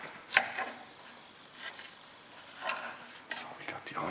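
Knife cutting onions on a board for an eggplant risotto, a few scattered soft chops and scrapes spaced out over a few seconds, close and quiet.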